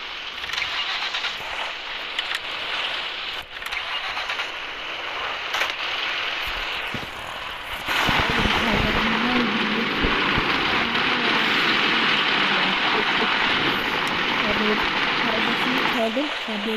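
A car engine idles and runs steadily in the mobile driving game Car Parking, a broad continuous hum that thickens and grows louder partway through, with a faint murmur of voices underneath.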